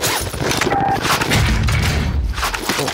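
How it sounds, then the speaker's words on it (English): Gunfire in Call of Duty Warzone, a dense burst of rapid shots and thuds running nearly continuously for three seconds, loud and close with a busy game mix behind it. "I'm trying to shoot this guy."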